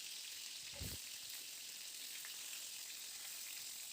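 Pointed gourd pieces fry in hot oil, giving a soft, steady sizzling hiss throughout, with one brief clatter near the start and no voices.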